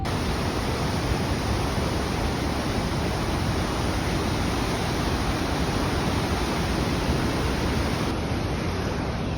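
A waterfall in Ecuador, heard from a suspension bridge above it, roars as a loud, dense, unbroken rush of falling water.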